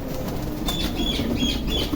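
Pigeons' wings flap in soft, repeated fluttering bursts against a steady background murmur, fairly close by.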